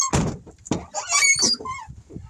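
The passenger-side door of a 2001 Dodge Ram 1500 work truck squeaks and squeals as it swings, with several knocks and clunks, close and loud, despite being treated with WD-40.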